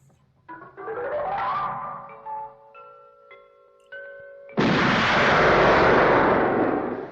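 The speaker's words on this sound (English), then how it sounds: "That's the very first gun barrel in Dr. No." The opening gun barrel sequence of the James Bond film Dr. No, with electronic tones and sustained notes followed by a sudden loud, noisy gunshot-like burst that rings on for several seconds.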